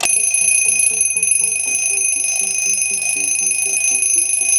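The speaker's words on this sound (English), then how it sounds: "And that's the genuine Westclox alarm." A Westclox Lark mechanical wind-up alarm clock rings nonstop with a rapid, shrill metallic bell clatter, loud and close.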